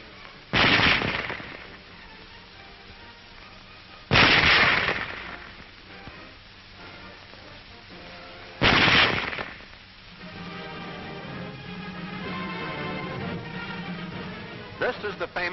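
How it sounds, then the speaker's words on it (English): A German Model 98K bolt-action rifle fires three loud, sharp shots at even intervals of about four seconds, each with a short echoing tail, while someone narrates between them. "Loading and firing the Model 98K is the same as our own Springfield, with the exception of the sight adjustment."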